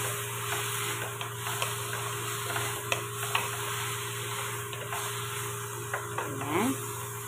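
Turmeric and black pepper get stirred in a frying pan, a soft scraping and gentle sizzle under a steady background hum, with a few light ticks and clinks of the utensil.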